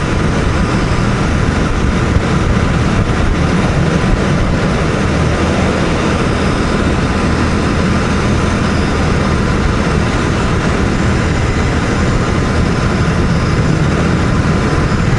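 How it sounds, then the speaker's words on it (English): Royal Enfield Bear 650 motorcycle, 2024 model, cruising at a light throttle in sixth gear at around 110 km/h up a slight incline: a steady, continuous engine drone mixed with constant wind rush, loud and unbroken throughout. "Hardly even got the throttle cracked. It's just purring along at 110."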